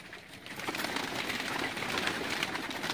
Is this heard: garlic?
no